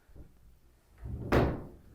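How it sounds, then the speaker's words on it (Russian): A sliding door in a house in Japan is moved after a few soft shuffles, ending in a single close, solid thud as it shuts. There is no talking. "Здесь у нас дверь сдвижная"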